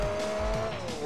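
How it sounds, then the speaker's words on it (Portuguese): A race car drifts in Gran Turismo 4 during a 4WD event, its tires squealing in a sustained pitched screech over the engine's roar, loud and close. "O carro faz drift, né, cara?"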